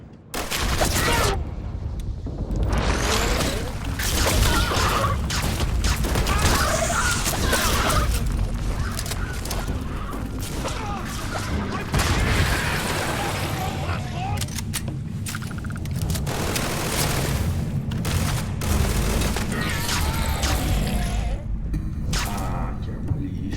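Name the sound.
gunfire from a weapon in Starfield video game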